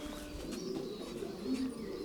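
A racing pigeon coos softly in low, rolling murmurs, with faint bird chirps and ambient noise around it.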